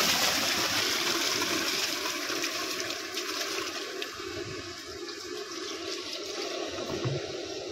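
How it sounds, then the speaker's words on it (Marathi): Water pours steadily into a biryani pot in a rushing, gushing stream. The flow is close and continuous, then eases slightly toward the end. "पाणी टाकायचं"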